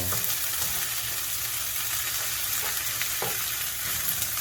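Onions sautéing in butter in a pan for chicken cream pasta, a loud, continuous close-up sizzle with occasional soft stirring knocks and no speech over it.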